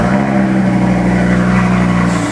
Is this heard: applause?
no